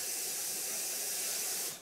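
Water running into a pot of rice before steaming, a steady broad hiss from start to finish that cuts off near the end, heard alone with no talking.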